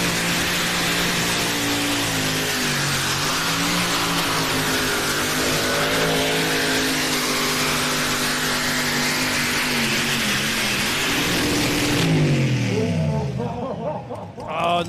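A tractor-pulling vehicle built on an old Volvo Duett chassis makes its run, a loud sustained engine roar with shifting harmonic tones that climbs toward the end, with a brief rev change near the finish and an announcer's voice mixed in.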